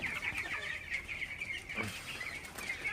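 Broiler chickens cluck steadily in a poultry shed holding about 400 birds on day eighteen, a continuous close flock chatter with overlapping calls and no speech.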